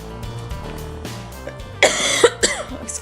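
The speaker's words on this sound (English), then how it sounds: "I told you I had a cough" A few close, sharp coughs burst out in a quick cluster over a low background hum, preceded by faint clicks and rustling.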